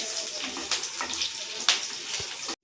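Water is poured into a pan of dhokla tempering with green chillies, making a continuous splashing gush for a few seconds that stops abruptly.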